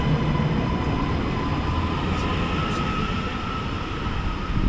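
A Class 331 electric multiple unit accelerates away, giving a loud, steady, close-up rumble with a faint rising whine and no voices.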